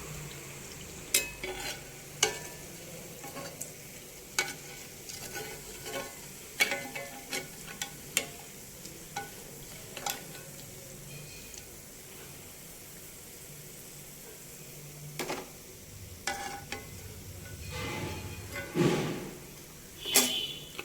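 Jaggery fritters (bellam appalu) fry in hot oil with a continuous soft sizzle, broken by frequent clinks and scrapes of a utensil stirring and turning them in the pan.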